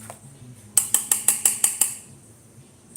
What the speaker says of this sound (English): So I'm just mixing that in with my vegan egg replacer.